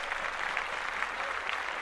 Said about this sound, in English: round of applause for the Busted Challenge